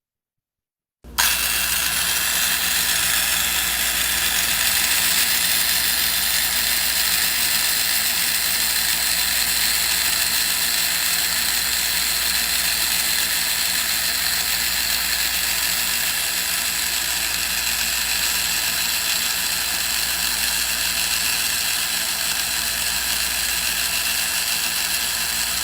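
A Merlin2 Mini angle grinder carves a spiral hollow-form in wood, with a loud, continuous high-pitched whirring and grinding that starts abruptly and holds steady, close up and with no talking.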